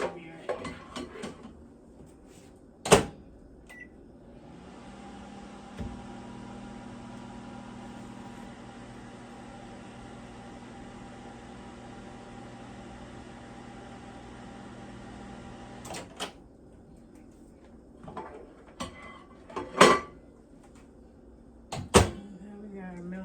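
A microwave melting butter starts up with a click and hums steadily for about ten seconds. It stops with a sharp beep and a door clunk, and a few loud beeps and kitchen knocks come before and after.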